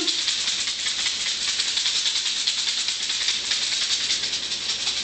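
A handheld shaker rattled steadily for space cleansing, producing a continuous bright, hissing rattle with fast even pulses, close and fairly loud, with no voices.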